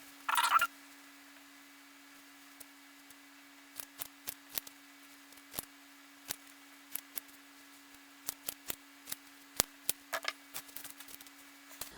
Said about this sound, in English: So I'm going to cut off a pretty large piece.